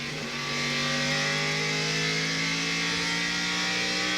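Chevrolet Silverado race truck engine screaming near 8,500 RPM, heard onboard during a close battle in a 2000 NCTS truck race, a steady, loud, high-pitched drone that climbs slightly and holds with no talk.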